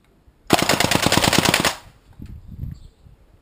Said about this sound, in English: Put it on automatic and see what automatic does now then